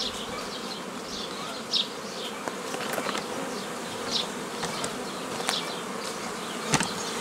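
Honey bees buzzing around a hive during an apiary move, a dense continuous swarm drone with individual bees zipping close past at moments, no talk.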